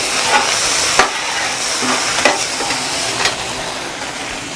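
Frozen peas and carrots sizzle and fry in a pan for fried rice, a steady loud hiss with a few sharp scraping stirs, no talking.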